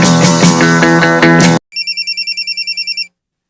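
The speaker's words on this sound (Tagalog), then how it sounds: "imo cellphone bagting" A cellphone rings: a loud burst of busy sound gives way to a clean electronic ringtone of about a dozen evenly spaced beeps, then silence, with no speech.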